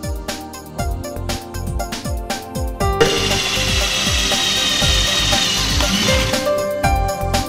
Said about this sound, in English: drill the holes, paying special attention to the right inclination of the holes